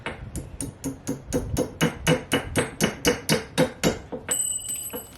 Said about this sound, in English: The hammer? A little bit.